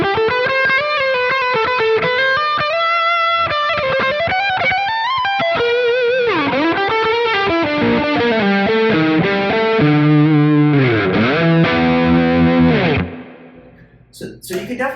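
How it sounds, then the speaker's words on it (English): Schecter MV6 electric guitar on its single coil pickup, playing a continuous loud lead line of bends, slides and vibrato through distortion and chorus, ending with a brief fade and a few faint taps. "Here's the single coil in the same tone."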